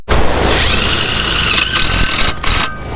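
A power drill running with cheap drill bits, a loud, close, high whine spinning steadily for about three seconds with brief dips as the load changes.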